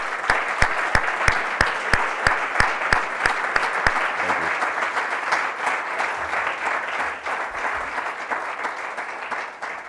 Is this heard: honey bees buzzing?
no